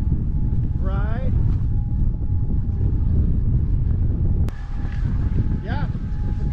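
A boat fitted with an XFoil high performance propeller runs steadily through some basic maneuvers, its engine and water rush forming a continuous broadband roar mixed with wind buffeting and a few faint whistling tones.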